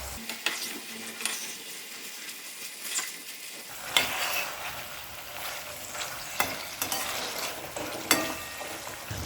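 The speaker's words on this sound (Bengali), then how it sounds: "গ্যাসটাকে এবার মিডিয়াম ফ্লেমে রেখে হালকা হাতে মাছগুলো 1 মিনিট মতো নাড়াচাড়া করব।" Small hilsa fish fry in oil over a medium flame while being turned gently in the pan: a constant close sizzle broken by occasional scrapes and soft knocks of the spatula, with no talking.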